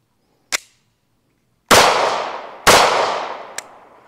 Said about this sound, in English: Man, that's a smooth shooting gun.